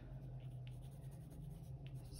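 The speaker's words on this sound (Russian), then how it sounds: "возьму теперь коричневый карандашик, да, и тоже сделаю немного пятен" A brown colored pencil dabs spots onto paper, producing very faint, soft scratchy strokes in a quiet room with a low steady hum underneath.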